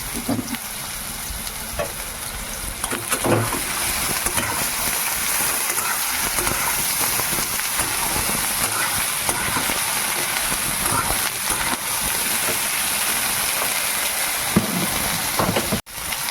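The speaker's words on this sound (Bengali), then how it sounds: "এই লতি আমি সেদ্ধ করে রান্না করবো না, সরাসরি আমি কড়াতে তুললাম" Taro stolons (kochur loti) fry directly in a wok, giving a steady, even sizzle with occasional stirring scrapes throughout.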